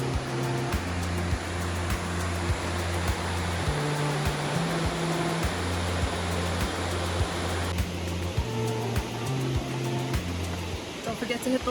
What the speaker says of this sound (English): Tiny waterfall that feeds the other bigger waterfall.